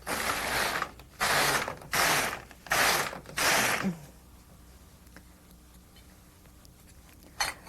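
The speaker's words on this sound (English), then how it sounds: "I need to put my side levers back on the triangle so that the needles in B position can knit." An LK150 knitting machine gives four loud rasping mechanical strokes in quick succession, each about half a second, then fades to faint clicks and rattles before one short final burst.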